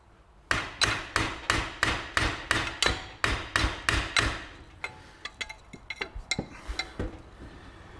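About a dozen hard, evenly spaced hammer blows ring on metal, followed by lighter, quicker taps and clinks that trail off.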